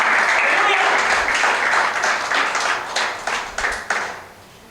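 A church congregation claps loudly and continuously during a worship service, with voices mixed in. The applause tapers into a few fading bursts of claps near the end.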